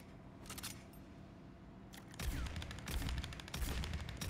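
Scout rifle fire from the M42A2 in Aliens: Fireteam Elite, a few sharp shots then rapid repeated bursts from about the two-second mark, loud and close with no talking.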